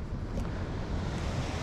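Atlantic Ocean surf and wind at the beach give a steady, full-bodied roar of breaking waves mixed with blustery wind buffeting, continuous and fairly loud with no voices.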